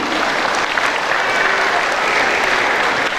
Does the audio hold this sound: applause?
yes